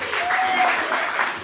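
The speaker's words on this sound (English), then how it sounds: "Clap for Jesus." At a thanksgiving service, a congregation claps together in praise of Jesus, a continuous dense patter of many hands with voices mixed in, steady and fairly loud throughout.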